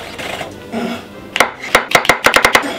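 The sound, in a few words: knife mincing mushrooms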